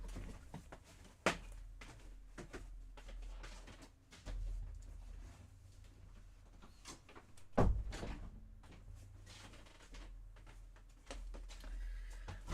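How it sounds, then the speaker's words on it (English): A bedroom door is closed indoors with a sharp thump partway through, while a laundry machine runs as a faint steady hum and quieter knocks and rustles sound before and after. "I'm going to close my door."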